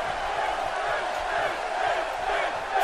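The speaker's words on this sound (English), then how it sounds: "Crowd here in Denver behind Finn Balor" A wrestling arena crowd in Denver roars in a steady, dense wash of cheering, with a commentator's voice under it.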